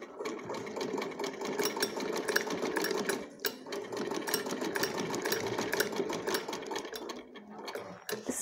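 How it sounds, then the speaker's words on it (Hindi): A sewing machine stitches a fabric pencil pouch with a fast, steady mechanical whir and needle clatter. It runs close and continuous with two brief pauses. "अब हम इसे उल्टा कर लेंगे और उल्टा करके दोनों साइडों से सिल देंगे"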